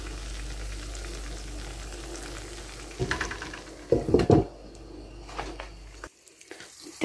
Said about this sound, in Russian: Жарятся, а сочненькие, смотрите, сок там у них, да?